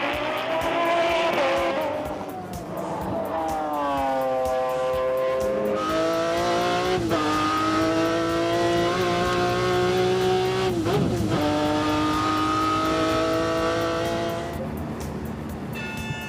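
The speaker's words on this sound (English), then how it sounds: "Just listen to that engine note." Long-tail racing GT supercar on a circuit, its loud engine note rising and falling sharply through repeated upshifts and downshifts, passing at close range with no talk.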